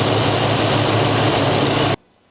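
An engine idling at about 760 RPM, running a little fast, as a steady loud drone that cuts off abruptly near the end.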